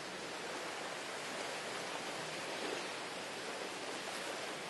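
Ocean waves wash steadily onto a Fiji beach where yoga is practised at the water's edge, a continuous soft hiss of surf with no voices.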